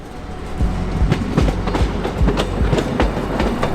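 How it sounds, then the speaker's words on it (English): A train pulls into a station in the Peloponnese, Greece, wheels giving a steady clickety-clack over rail joints with a loud rumble close by, no voices. "Train arrived."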